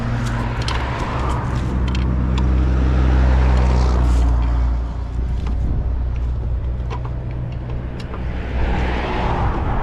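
A junkyard 454 V8 engine from an RV with 60,000 miles being cranked and trying to start, a steady rumbling drone with some surging throughout, loud and close.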